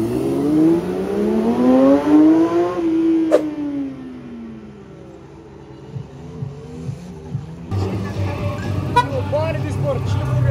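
A Chevrolet Caravan engine revs up in a rising sweep, peaks, then falls back. Afterward the scene turns lively with shouting voices and general noise.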